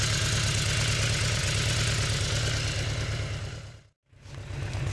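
A Yamaha VMAX motorcycle engine runs loud and steady at close range with a throbbing low rumble, briefly cutting to near silence before picking back up.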